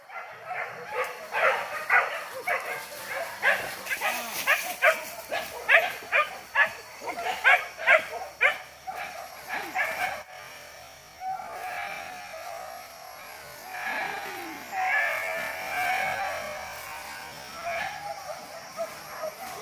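Several hunting dogs on a wild boar hunt by a river bark in quick, rhythmic bursts at first, then yelp and whine more loosely, moderately close, with some voices mixed in.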